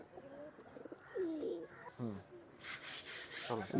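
Local desi pigeons coo softly in low, rolling calls, several in a row, with scraping and rustling noises in between.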